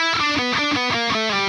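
Distorted electric guitar plays the short lick closing the intro of a song, a quick run of sliding notes and double stops, loud, dense and close with no voice.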